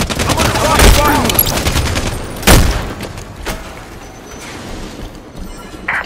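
Gunfire in the video game Halo 5 Guardians: loud bursts of rapid automatic fire with sharp individual shots, a heavy crack near the middle, then sparser, fainter shots trailing off.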